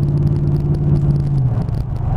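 A 1996 Chevrolet Caprice on a test drive, heard from inside as a steady low engine and road rumble with a faint whir, close and continuous.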